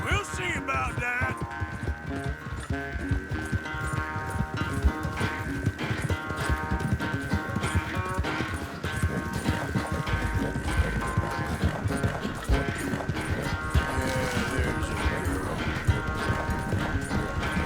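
Horse hooves clip-clop at a steady galloping rhythm while riding in the Red Dead Redemption 2 video game, set under a dense, continuous game soundtrack and effects that stay loud throughout.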